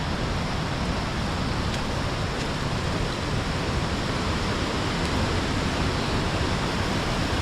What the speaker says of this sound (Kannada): ಸೊ ಇನ್ನೇನು ಹತ್ರ ಬರ್ತಾ ಇದ್ದೀವಿ ಫಾಲ್ಸ್ ಹತ್ರ. ಸೌಂಡ್ ಕೇಳಿಸ್ತಾ ಇರಬೇಕು ಇವಾಗ ನಿಮಗೆ.